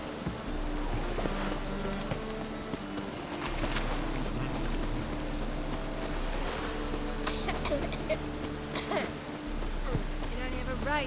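Steady rain falling across an outdoor scene in The Witcher 3: Wild Hunt, a continuous hiss throughout with occasional thunder-like rumbles and game sounds layered in.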